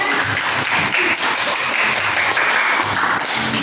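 Students applaud a classmate's answer during a classroom lesson, a steady burst of many hands clapping, close and fairly loud, lasting a few seconds without talk.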